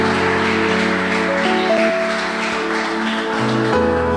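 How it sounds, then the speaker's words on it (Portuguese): A church congregation applauds with steady, continuous clapping that runs the whole stretch, mixed with sustained keyboard or organ chords that shift pitch as they play along. "Vamos aplaudir o Santo Eterno"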